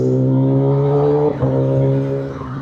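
A limited edition 1000cc motorcycle engine rumbles steadily at idle with a strong low drone, close and loud, followed by a brief throttle blip and a slight change in pitch.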